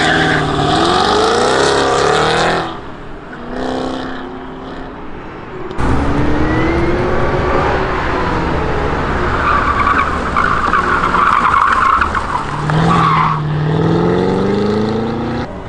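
A Cadillac CT5-V Blackwing and other cars race around an autocross course, tires squealing loudly through corners as engines rise and fall in pitch, with sweeping passes near and far and brief quieter lulls between runs.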